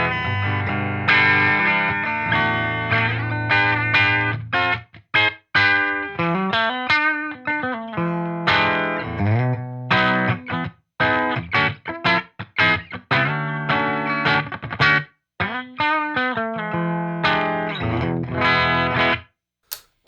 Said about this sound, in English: So here's a clean channel just on the bridge pickup.